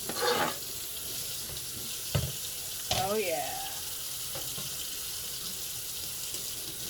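Water runs steadily from a kitchen tap during dishwashing, a close, even hiss broken by a few sharp clinks and knocks of crockery, with a short spoken voice at the start.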